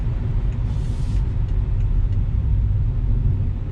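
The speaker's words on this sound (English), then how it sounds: "this is just a small drive in the BMW" A 2020 BMW 228i Gran Coupe drives along with a steady low rumble of engine and road noise, constant and fairly loud throughout.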